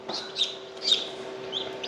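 A newly hatched chicken chick peeps repeatedly up close, high thin chirps coming in quick succession over a faint steady hum.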